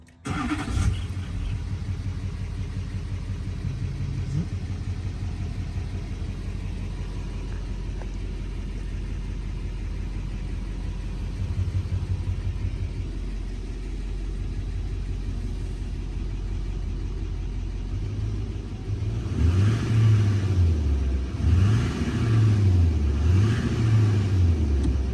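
Mostly stock LBZ Duramax diesel truck with about 313k miles, a full EGR delete and an aftermarket intake pipe, idling with a steady low rumble throughout, then revving in a few rising and falling pulses near the end, with no talking.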